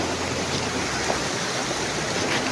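Mashenuloddi waterfall gives off a constant, broad rushing roar of falling and flowing water, steady and enveloping throughout.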